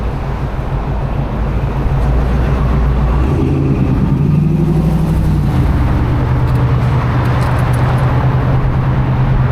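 Loud, close engine rumble from car traffic on a commute road, a continuous low drone with a heavier vehicle passing and shifting pitch midway, no voices.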